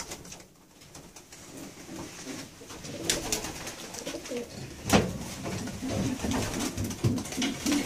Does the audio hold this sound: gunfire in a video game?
no